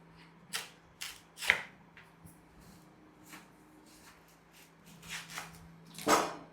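A knife slicing through watermelon in a kitchen, scattered crisp cutting and crunching strokes of varying loudness over a faint steady hum, a sharper burst of juicy crunching near the end.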